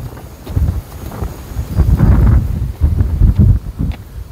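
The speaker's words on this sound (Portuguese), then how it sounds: "Aí, ó, bem forte o vento." Strong outdoor wind buffets the microphone in gusty, rumbling bursts along a walking route to a hilltop lookout in a new neighborhood, loud and continuous with no talk.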